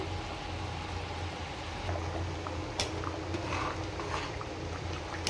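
Tomato rice boils in a pot, a soft, steady bubbling and simmering hiss with occasional small pops, close by and fairly quiet, without any voices.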